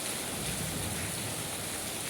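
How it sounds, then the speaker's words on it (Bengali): Heavy rain pouring in the Chuknagar area, a dense, steady wash of noise with no breaks, loud and close, no talking. "অনেক বড় বৃষ্টি আসলে এবছর এমন বৃষ্টি এখনো দেখা যায়নি"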